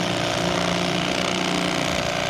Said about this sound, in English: I have one of these electric bubba blades, the cordless